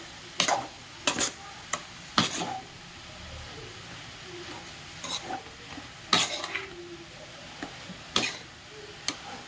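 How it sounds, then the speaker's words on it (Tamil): Grated carrots sautéing in ghee in a pan for carrot halwa, a spoon scraping and clattering against the pan in irregular bursts of stirring over a faint, low sizzle, with quiet gaps between strokes. "நெய்யில் கேரட்டை வதக்கி விடுவேன்"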